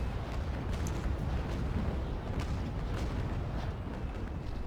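Ship cannon fire in the naval sailing game Naval Action, a steady rumble of repeated booming shots and impacts under constant sea and wind ambience, with no clear speech.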